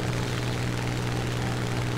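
Steady, droning piston engine of a Hawker Typhoon Mk 1a fighter in War Thunder, a continuous low hum with a strong tonal buzz and no breaks.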